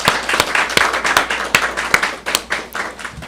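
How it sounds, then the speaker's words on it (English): Audience applause at a suicide prevention month event, a close, lively patter of clapping with distinct sharp claps rising and falling in waves. "can we just give them another round of applause"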